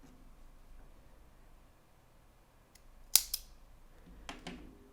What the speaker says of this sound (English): we're going to cut off a long tail here to sew this into the body